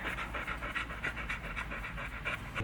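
A happy dog panting rapidly and steadily, close to the microphone, a rhythmic string of quick breathy huffs with no talking.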